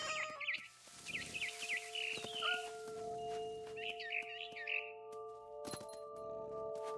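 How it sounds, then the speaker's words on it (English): A barn swallow chirps in quick bursts in the video game What Remains of Edith Finch, faint twittering calls over sustained soft musical tones and occasional clicks. "Then I heard chirping outside my window. It was a barn swallow going back to her nest."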